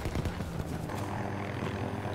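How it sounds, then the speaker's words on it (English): An enemy helicopter roars in the Battlefield 2042 video game, a steady, loud rotor and engine wash filling the whole moment without a break. "That's an enemy chopper."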